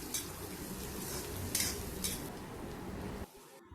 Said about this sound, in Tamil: சேர்த்துட்டு நல்லா மிக்ஸ் பண்ணி விட்டுக்கலாம்.